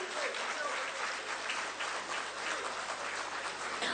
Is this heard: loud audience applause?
yes